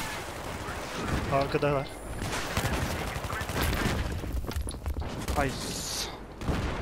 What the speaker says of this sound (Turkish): Ah soldan vuruyorlar.